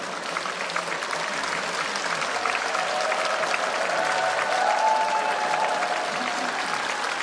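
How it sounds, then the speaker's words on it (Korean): Large concert audience at an Asia song festival applauds to welcome a performer, a continuous even roar of clapping with faint crowd voices and a soft tone beneath it. "큰 박수로 맞으시기 바랍니다."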